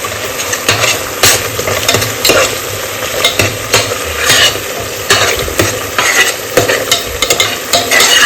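Spice masala for a soybean egg biryani frying in a pan, a steady loud sizzle broken by repeated scraping strokes of a spoon stirring it, close up with no talking.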